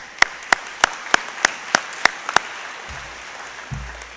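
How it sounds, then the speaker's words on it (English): At a high school senior awards ceremony, a small audience gives sparse, evenly spaced claps, about eight sharp hand claps in a slow rhythm, followed by a couple of low dull thumps. "So I wanted to give them a round of applause."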